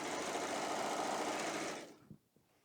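A Baby Lock serger runs at a steady, close, buzzing whir while sewing a hem on pants, then stops abruptly near the end, leaving a few faint clicks and handling sounds.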